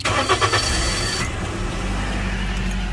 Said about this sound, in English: They can use any key to start your car.